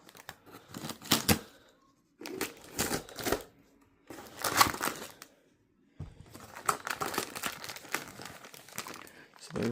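Tape being torn and plastic crinkled while unboxing parts of a Nexa FW190 1510mm RC warbird plane, coming in close, scratchy bursts separated by short pauses.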